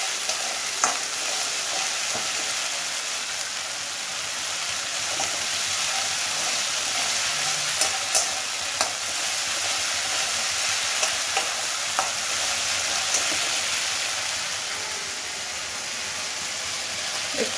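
Masala for Bengali egg curry frying in oil as it is stirred, a continuous loud sizzle with occasional spatula scrapes and taps against the pan throughout.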